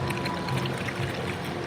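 Koi crowding to food at a fish café in Chinatown churn and splash the water, a steady close wash of splashing and sloshing that runs without pause.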